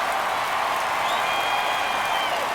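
A baseball stadium crowd cheers and roars in a dense, steady wash of noise during the ninth inning of a Mets versus Brewers game, sustained and loud throughout with a faint whistle-like tone riding on top.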